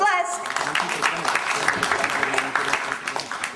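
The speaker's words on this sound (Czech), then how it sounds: "potlesk" Studio audience applauding for a Czech television performer, a dense burst of clapping that starts right after a brief tonal note and holds steady, mixed with crowd noise.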